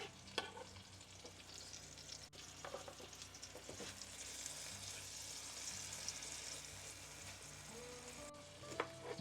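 Squid sizzles in a cast iron pan heated over a propane burner, a steady close hiss and crackle with occasional stirring scrapes and clinks throughout.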